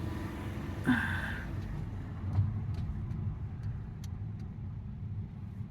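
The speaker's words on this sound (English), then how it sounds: "it's a tiny car. These are tiny roads." A tiny car drives along narrow country roads in Malta, its engine a steady, muffled rumble heard from inside the cabin, with a few faint clicks and thumps over it.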